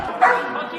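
Police dog during a security exercise in the Paris metro, giving one brief bark or yelp, close and loud, with a voice overlapping it.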